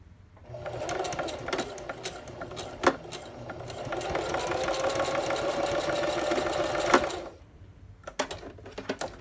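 A sewing machine runs a zigzag stitch through a folio journal, a steady rapid mechanical clatter lasting several seconds between quieter clicks and handling sounds, close by.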